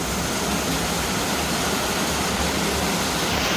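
Floodwater rushing through flooded streets in Las Piñas, a loud, continuous broadband roar like a torrent, close and unbroken, with no voices.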